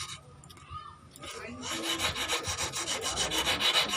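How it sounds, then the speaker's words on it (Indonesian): Sandpaper rubs back and forth over a wooden knife handle, starting quiet and then turning into a steady, close, rhythmic rasping scrape of even strokes. "kita bersihkan pakai amplas supaya permukaannya lebih rata"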